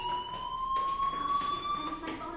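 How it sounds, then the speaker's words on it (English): Fire alarm ringing in the Life is Strange video game, a continuous high electronic tone sustained steadily through the clip over faint background ambience. "Hey, do you hear that fire alarm?"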